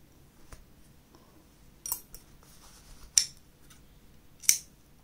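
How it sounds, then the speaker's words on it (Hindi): Scissors snipping crochet thread, a few sharp metallic snips and clicks at irregular intervals, fairly close and quiet against a faint room background. "यहाँ से हम इसे काट देंगे धागे को"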